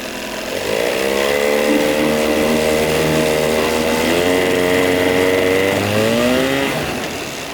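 A 1982 Evinrude 9.9 hp long-shaft outboard motor, freshly reassembled after new paint, thermostat and water pump, revs up loudly and close, holding a steady high whine for several seconds before easing off.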